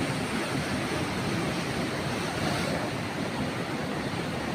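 Ocean waves breaking along the shore make a steady, dense roar of surf with no pauses or distinct crashes, and no voices.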